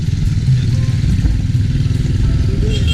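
A rented moped engine idles and runs nearby in Yogyakarta, a loud, steady low putter with light mechanical clatter throughout.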